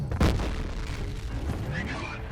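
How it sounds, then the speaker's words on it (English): A grenade goes off in the shooter game F.E.A.R.: Extraction Point as one sharp, heavy boom, followed by a rumbling decay that lingers under game sounds to the end. "That is a grenade."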